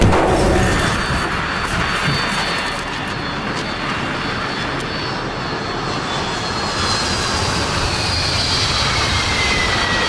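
A small plane drones steadily overhead in the video game The Forest, its engine a loud, continuous roar holding for the whole stretch with no talking over it.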